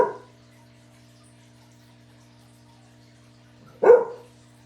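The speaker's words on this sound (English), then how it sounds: "I don't know what my collie's barking at." A collie barks twice, one bark at the start and one sharper bark near the end, close and loud over a quiet room with a steady electrical hum.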